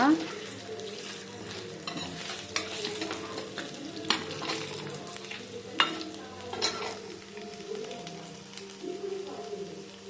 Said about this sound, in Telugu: ఆవాలు జీలకర్ర చిటపటలాడిన తర్వాత